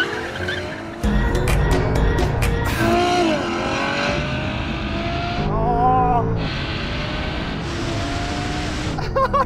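A sports car launching hard on a drag race run with traction control off, tires squealing and skidding loudly as the engine revs climb through several gear changes, close and continuous.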